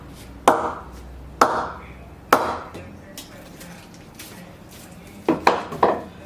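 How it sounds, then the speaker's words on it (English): Several sharp wooden knocks from a cricket bat being tapped ring out one at a time with short pauses, then a quick cluster of three taps near the end, each crisp and close. "Just feel up the crispy sound of this bat."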